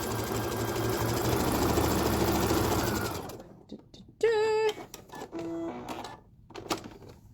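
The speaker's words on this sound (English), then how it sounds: "You've sewn over this really thick lump, but you haven't had any balk in your stitches, so you get a nice neat finish sewing over it." A sewing machine hums and chatters through about three seconds of stitching on a pant hem over a thick lump, then halts, followed by scattered handling clicks and a few short tonal beeps.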